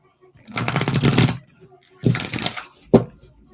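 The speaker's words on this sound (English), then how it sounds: "Let's do one more shuffle." A deck of oracle cards is shuffled in three bursts of riffling, two longer flurries followed by a short sharp snap, close and fairly loud with no talking.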